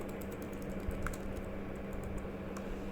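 Rapid typing on the keyboard of a Lenovo ThinkPad X230 laptop with a Core i5, a steady run of soft, close clicks and taps over low room hum, no talking.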